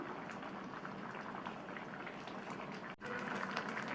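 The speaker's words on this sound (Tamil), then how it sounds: "இப்போ புளிக்கரைசல் சேர்த்ததுக்கப்புறமா ஒரு 2 நிமிஷம் மட்டும் கொதிக்கட்டும்" Spinach sambar with tamarind water simmers and bubbles steadily in a pot, a soft continuous crackling boil heard close and alone.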